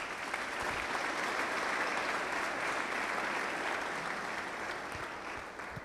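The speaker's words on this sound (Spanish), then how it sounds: "le damos también fuertes aplausos." A church congregation applauds warmly during a diaconal ordination, a dense, even roar of clapping that stays steady for several seconds and eases slightly at the end, with no voices.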